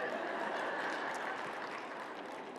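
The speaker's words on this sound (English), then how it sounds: "Judging by the clapping, sounds like some of you can relate." A live comedy audience claps in a faint, steady wash of applause that thins a little toward the end.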